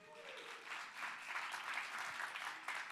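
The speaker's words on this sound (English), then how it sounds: "Let's give him a big hand clap, guys." A church congregation clapping together at an evening service, a dense, steady wash of applause from a room full of people, heard from a moderate distance.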